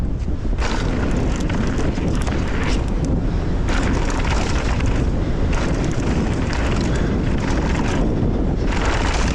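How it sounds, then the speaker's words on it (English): Strong headwind roars over the microphone while mountain biking at the Windrock bike park. The buffeting is loud, close and continuous, surging and easing in gusts throughout, with no talking. "major headwind"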